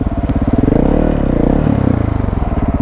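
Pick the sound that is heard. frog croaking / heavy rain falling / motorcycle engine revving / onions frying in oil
motorcycle engine revving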